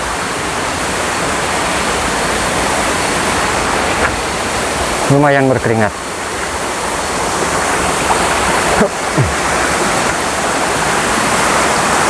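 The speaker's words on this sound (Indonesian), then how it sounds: "inilah dia, air terjun atau Curug Paniis." Curug Paniis waterfall in Pandeglang roars as a steady, loud, broadband rush of falling water filling the whole scene, with someone speaking briefly over the constant noise.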